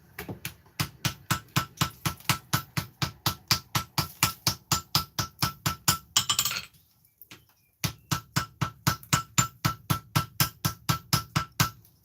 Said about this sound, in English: I think I'm going to go for the first welding heat. See if we can tap something together.